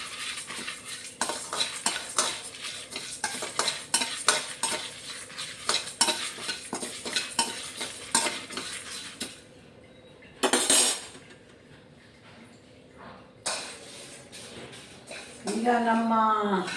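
Coriander seeds with urad and chana dal dry roasting in a pan on low heat, with steady scraping and stirring clinks and light rustling, close; someone speaks over it.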